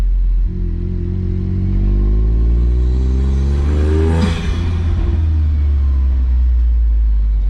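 A Honda S660's small engine idles, then revs up in a rising whine that peaks and falls back to a loud, steady rumble close by.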